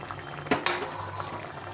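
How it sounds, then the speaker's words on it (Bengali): Bitter gourd and potato curry simmering in a pot with fried fish just added, a steady low bubbling broken by two quick splashy knocks near the start. "মাছ দিয়ে একটু কিছুক্ষণ ফুটিয়ে নিতে হবে।"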